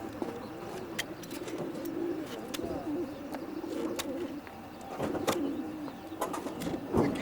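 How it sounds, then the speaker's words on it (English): Racing pigeons released early in the morning in calm conditions for a long-distance classic race, cooing steadily throughout with scattered sharp chirps and wing flutters in an outdoor setting, fairly close and moderately loud, with no talk. "The Central Southern Classic pigeons are up at 5:45"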